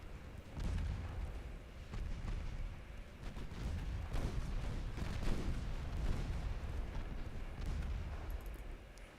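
Naval guns in the Ultimate Admiral Dreadnoughts game fire at destroyers, a series of deep, heavy booms that overlap into a rumbling barrage and hold steady throughout, with no voices.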